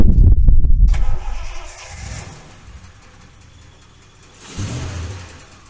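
Engine of a 1973 Triumph Stag starting: a loud cranking burst as it catches, then a lower settled idle, followed by a brief second swell of engine noise near the end, heard alone without speech.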